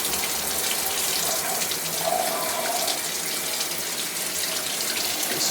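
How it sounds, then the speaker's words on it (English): Rainfall showerhead with wand spraying a steady, dense curtain of water, a continuous close hiss and patter that holds at constant loudness throughout with no voices. "All our shower things engaging, so we have a nice little rainstorm going there"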